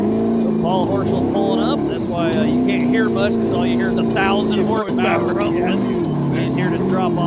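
A 1,000-horsepower off-road race vehicle engine roars loud and steady at an off-road race in Moab, Utah, with a commentator talking over the constant engine drone.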